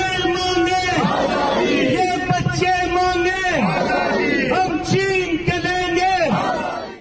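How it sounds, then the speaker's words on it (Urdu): Protest crowd chanting slogans for Kashmir's freedom in Leeds, a loud call-and-response of massed voices in a repeated rhythmic cadence, roughly one chant every second or two. "مظاہرے میں کشمیر کی آزادی کے حق میں نعرے لگائے گئے۔"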